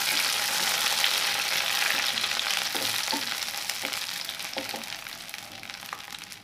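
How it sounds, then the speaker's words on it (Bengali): Bay leaves, cloves and cardamom fry in hot oil in a pan already used for frying prawns, a loud, steady sizzle that slowly eases, with a few soft taps of a spatula. "প্রথমে আমি তেজপাতা আর লং ইলাচিগুলো একটু ভেজে নেব"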